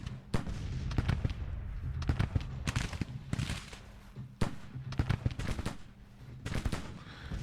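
Civil War artillery pieces in the Grand Tactician strategy game fire repeatedly in sharp, booming reports with scattered crackling shots between them, spread across a continuous battle rumble at moderate level.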